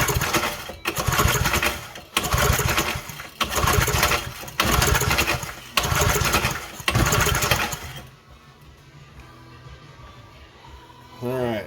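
A 3 hp Briggs and Stratton engine on a Montgomery Ward edger, after sitting unused for several years, is pulled repeatedly: six loud, rhythmic starter-rope bursts with brief sputters, then a quiet tail with a faint rattle.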